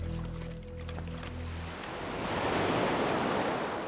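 Ocean waves: after a low tonal hum fades, a broad, rushing surf swells up and washes loudly with no voices.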